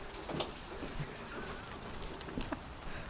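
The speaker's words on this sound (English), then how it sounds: "Oh, it's really pouring rain now." Heavy rain pours steadily outdoors on a Halloween evening, a dense continuous hiss with scattered louder drops and splashes close by, no voices over it.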